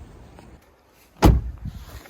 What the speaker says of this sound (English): One thing we do need to check is that the door will shut.